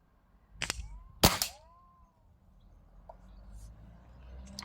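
A Diana 48 springer air rifle fires pellets, giving two sharp close cracks in quick succession, each trailed by a ringing spring twang, followed by fainter background noise.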